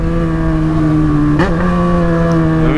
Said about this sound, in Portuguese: Mano, a moto parecendo um leão também, o ronco dela.